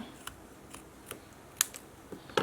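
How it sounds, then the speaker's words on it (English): Scissors snipping paper at a craft table, a few short, crisp cuts spaced irregularly, close and fairly quiet against a soft background hiss. "And then I get a pair of scissors and trim."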